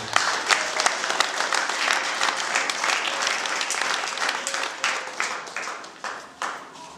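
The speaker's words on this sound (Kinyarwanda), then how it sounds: "dukomere Imana amashyi menshi." An audience at a gathering gives full applause, a dense roar of many hands that holds, then thins out into scattered individual claps as it fades, with faint voices underneath.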